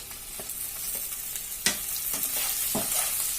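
Diced square-cut capsicum sizzles and crackles as it is stirred into chilli chicken in a hot pan, with steady frying hiss and scattered utensil scrapes and clicks throughout.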